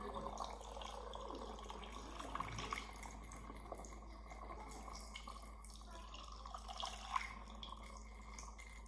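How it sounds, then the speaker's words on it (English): Water poured into a spray bottle for a homemade non-toxic all-purpose cleaner, a steady trickle and drip heard up close for several seconds with no talking. "next up we are gonna add in our water"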